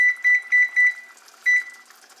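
A kitchen timer is set while eggs with tomato simmer on the stove, giving four quick, evenly spaced loud beeps and then one more after a short pause, with no one talking.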